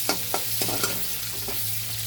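Chopped onions fry in hot oil with a dense, steady sizzle, broken by a few sharp stirring scrapes in the first second, close and continuous with no talking.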